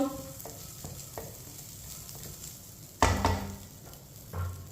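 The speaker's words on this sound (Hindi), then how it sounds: "2 मिनट के लिए कम आंच पर मैंने भून लिया सब चीज़ों को।" Vermicelli and dry fruits roasting on a low flame for sweet seviyan, heard as a soft steady sizzle with light scraping stir strokes and a louder clattering scrape about two-thirds through, close by with no talking.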